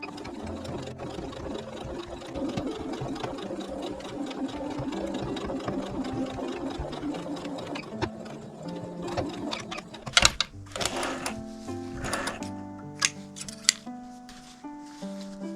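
A sewing machine stitches a small patchwork pouch in steady continuous runs, then breaks into short stop-start bursts with sharp clicks and pauses near the end, close and fairly loud with no talking.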